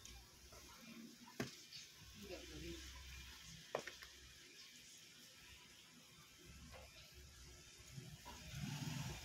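A cassava dish topped with toppings cooks in a pan that is turned by hand, giving a soft, steady sizzle and hiss throughout, broken by a few sharp clicks and knocks of the pan, with faint murmuring in the background.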